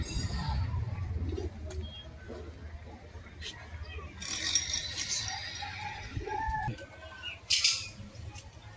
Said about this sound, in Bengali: এই যে কবুতর ছেড়েছে অনেকগুলো, পটাপট খেলছে নামার সময়।